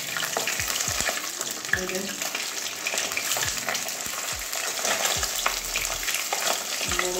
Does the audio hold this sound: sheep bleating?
no